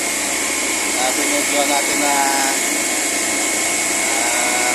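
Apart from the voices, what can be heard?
blast freezer running loud and abnormally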